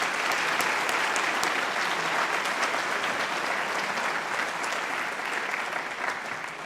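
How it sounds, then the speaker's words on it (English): Loud, dense applause fills a high school Year 12 graduation ceremony hall, continuous clapping from a large audience that holds steady for several seconds before easing slightly. "Can we have another round of applause for them?"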